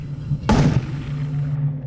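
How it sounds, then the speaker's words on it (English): A sharp, loud explosion from sodium reacting in water inside a bottle bursts suddenly, then a brief crackling decay and lingering rumble follow. "2 explosions. Still barely enough to uncap the bottle."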